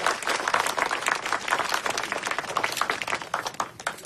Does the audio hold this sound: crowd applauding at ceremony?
yes